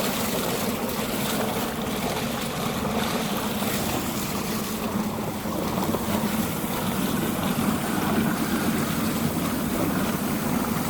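A Suzuki DF60A four-stroke outboard motor running in gear on a boat, fitted with a new prop, gives a steady, continuous drone mixed with water wash and wind noise, with no talk.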